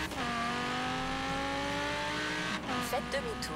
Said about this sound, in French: Elle a pas beaucoup de puissance cette voiture